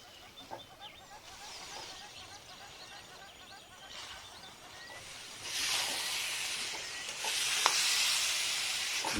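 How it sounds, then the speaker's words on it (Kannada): Carrot halwa cooking with condensed milk in a pan over a medium gas flame, giving a soft hiss and sizzle with occasional scraping stirs that swell louder toward the end. "ಕಂಡೆನ್ಸ್ಡ್ ಮಿಲ್ಕ್ ಅನ್ನು ಸೇರಿಸ್ಕೊಂಡು ಪೂರ್ತಿಯಾಗಿ ಒಮ್ಮೆ ಕಲಿಸ್ಕೊಳ್ಳೋಣ"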